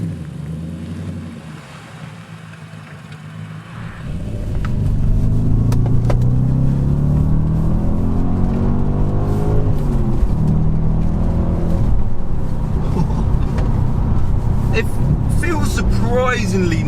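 A 117,000-mile Audi S4 pulls away and drives on, its engine a loud continuous drone with gear-change swells under heavy wind and road noise, and people talk over it.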